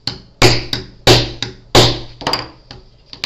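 Hard metal hammer blows strike an eyelet setter on a canvas album page, three loud evenly spaced hits followed by several lighter taps, close and sharp with no talking.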